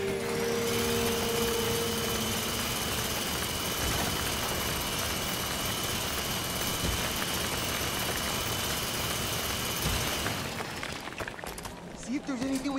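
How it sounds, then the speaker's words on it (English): Power drill boring into a wall in Resident Evil Revelations 2, a loud, steady grinding whine that runs for about ten seconds before cutting off, with faint game sounds underneath. "I bet I could drill through."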